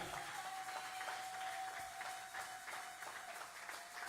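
A church congregation applauds in a faint, steady wash of distant clapping across a large room, with a thin sustained tone running through it and no clear talk.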